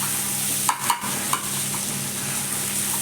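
Eggs seasoned with pepper and salt fry in hot oil, giving a steady soft sizzle broken by a few quick scraping strokes of stirring near the start.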